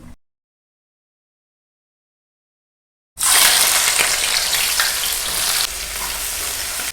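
After about three seconds of silence, onions hit hot oil with crackling mustard seeds for a tomato and boiled egg curry, giving a loud, steady, close sizzle that eases slightly toward the end.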